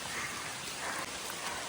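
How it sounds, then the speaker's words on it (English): Steady rain falls on the muddy Appalachian Trail in the mountains, a constant even hiss of drops on ground and foliage with no voices. "And it's raining. And it's muddy."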